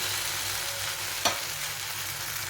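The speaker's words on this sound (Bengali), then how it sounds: "ব্যাটারটা আছে সেই ব্যাটারটা ভেজে নেব" Batter fries in hot oil with a constant soft sizzle and hiss, close but quiet, and a single brief clink of a utensil midway.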